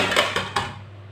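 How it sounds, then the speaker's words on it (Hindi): Peeled apples dropped into a cooking pot for apple murabba, making three quick hard clunks and clatters within about half a second before fading into quiet. "सेब डाल लेंगे"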